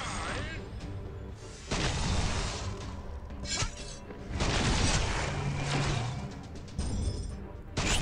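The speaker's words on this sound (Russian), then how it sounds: "Что это сейчас такое за взрыв был аж?" Explosion in the Tower Conquest mobile game: repeated bursts of crashing, shattering blasts amid busy battle effects, loud and close, with a voice speaking over parts of it.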